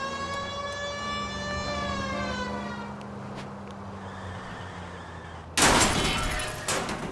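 A police siren in the video game L.A. Noire wails with a falling tone for several seconds, then a sudden loud burst of engine and road noise takes over.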